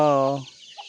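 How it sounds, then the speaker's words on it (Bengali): A chicken in a remote hill village in Bandarban gives one loud, near, harmonic crowing-type call in the early morning, fading out after half a second into quiet. "মুরগির আনাগোনা শুরু হয়ে গেছে"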